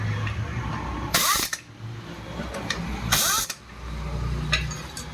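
Clutch cover bolts tightened with a ratchet on a Hero Splendor Plus BS6 motorcycle, giving two loud bursts of rapid clicking over a low mechanical hum, with faint tool knocks in between.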